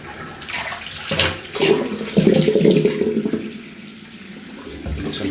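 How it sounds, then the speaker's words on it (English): Tap water gushes and splashes steadily into a sink during a wet shave, loud and close, then thins to a softer trickle near the end with no voices. "I'll just let this water run out first."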